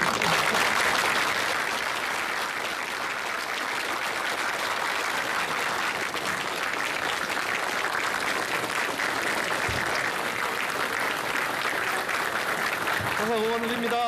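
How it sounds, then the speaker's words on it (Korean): A crowd of well-wishers applauds steadily for an outgoing justice minister as he leaves the ministry building in Gwacheon, a dense, continuous wash of clapping, with a brief voice or tone near the end. "박수 한 번만"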